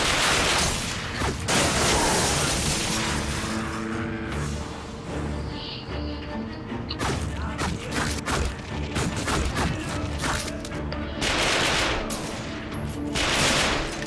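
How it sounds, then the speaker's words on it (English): Rapid gunfire bursts in The Darkness 2 video game as headlights are shot out, loud close volleys of repeated shots with brief lulls and mechanical game sounds between them. "Thought I could shoot out a lot of those headlights."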